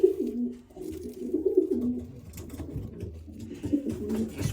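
A young black-and-white pigeon with a white head, kept with other pigeons, gives low, soft, continuous cooing that swells and fades, close by with no talking.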